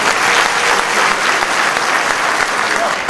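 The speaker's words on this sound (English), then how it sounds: "Please, can we give them a round of applause?" Sustained applause from a large crowd at an inaugural lecture, loud and continuous throughout with no pauses.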